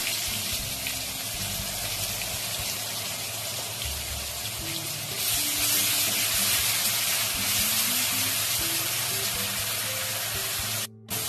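A paste of onion, green chili and garlic sizzles in hot oil with a loud, continuous hiss. Soft melodic tones sit faintly beneath it, and the sound cuts out briefly near the end.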